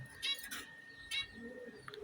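Soft cooing of pigeons or doves nearby, with a few faint chirps against a quiet background.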